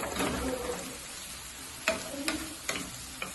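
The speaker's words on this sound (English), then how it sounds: "Go ahead and start stirring." Seasoned pasta and meat being stirred in a pan, with a soft background sizzle and a few distinct utensil scrapes and taps, close and moderately quiet.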